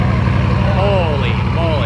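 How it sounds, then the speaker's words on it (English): An original Bugatti Veyron's engine idling right after start-up, a deep pulsing low rumble steady under a person talking nearby. "Original Veyron starting up. That thing sounds mean."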